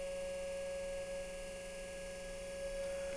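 A Lab-Volt DC motor runs unloaded with its shunt field set, giving a steady, even hum with a fixed tonal whine and constant faint noise, no change over the few seconds and no voices.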